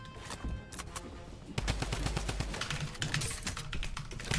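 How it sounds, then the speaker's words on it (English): An enemy fires on the player in Fortnite: bursts of rapid gunshots crack in quick succession, mixed with the clatter of computer keys, moderately loud with no talking. "Oh my god, he's shooting me."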